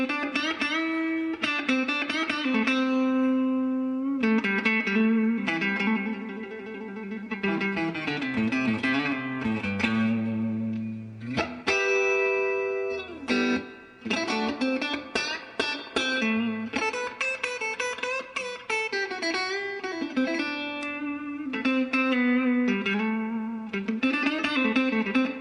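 Electric guitar plays through a distortion pedal into a vintage mid-1960s Gibson Falcon all-tube amp, a loud, continuous, saturated tone with sustained notes and quick riffs, with no talking.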